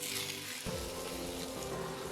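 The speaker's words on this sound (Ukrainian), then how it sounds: "На неї 30 грамів вершкового масла. І вкидаємо смажитись 300 грамів креветок." Shrimp sizzle steadily in hot butter in a pan, a soft, continuous crackle with a faint thump partway through.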